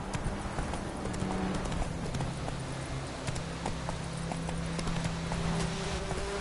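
Roach, Geralt's horse in The Witcher 3: Wild Hunt on PS4, gallops with a steady, fast clip-clop of hooves that holds at an even pace under a faint game backdrop.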